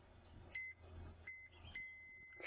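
Multimeter set to diode mode beeping continuously while probing a shorted diode in a bridge rectifier on a Trojan treadmill control board: three sharp, steady electronic beeps, each about a quarter second, spaced evenly over a faint low hum.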